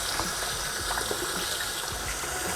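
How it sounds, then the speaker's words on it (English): Cold tap water running steadily into a sink while raw chicken breasts are rinsed after a vinegar wash, a continuous close splashing stream. "and then we're gonna rinse those off."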